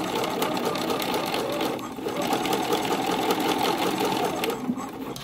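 Sewing machine stitching a pin-tucked hem in a circle on soft knit fabric, a steady rapid mechanical whirring and clatter that runs throughout, close and moderately loud, with a brief slowdown near the middle.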